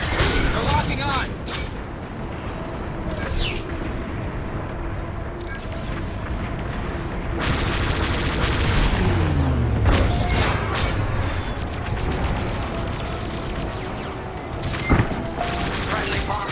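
A friendly bomber blowing up in a Star Wars space-combat video game, booming blasts and crashing bursts layered over laser fire and engine roar, with a voice talking throughout.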